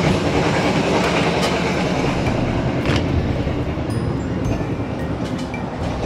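Loud rumble of the Pandalungan passenger train heard from outside the cabin, a dense steady roar with faint clickety-clack from the wheels throughout.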